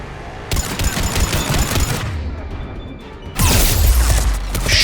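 Heavy automatic turret fire from a Cerberus emplacement in the Mass Effect 3 video game, loud sustained bursts with a short lull before a renewed, denser barrage.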